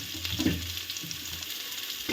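Carrots, papaya and potato drop into hot oil for a chicken stew and fry with a steady close-up sizzle and crackle, with a few louder bursts and no speech.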